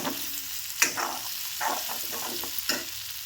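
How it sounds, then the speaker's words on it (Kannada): Brinjals fry in oil with a steady, moderate sizzle, punctuated by a few spatula scrapes and taps against the pan, close and unaccompanied by speech. "ಎಣ್ಣೆ ಒಳಗೆ ಇವಾಗ ಬದನೆಕಾಯಿ ಎಲ್ಲ ಫ್ರೈ ಅದ ನೋಡ್ರಿ"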